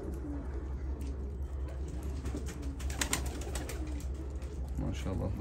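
Pigeons, including Modena breeds, coo in a low, repeated rhythm in a farm loft, set against a steady bed of rustling and wing flutter, with a faint murmur of voices in the background.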